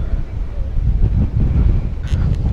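A cool breeze at Hampi buffets the microphone in steady low rumbling gusts, loud and close, with a brief faint higher sound near the end.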